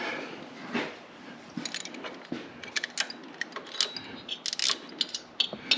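A wrench works on the shift lever of a Harley Davidson Street Glide, producing quiet, irregular metallic clicks, ratcheting ticks and small clinks of tools close by.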